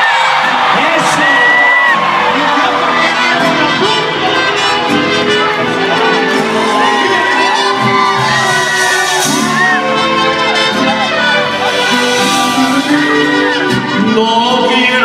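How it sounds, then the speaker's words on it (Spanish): Live concert crowd at a show in New Jersey, shouting, whooping and cheering continuously and loudly throughout, with scattered yells and some voices rising above the roar. "¡Que se oigan los gritos!"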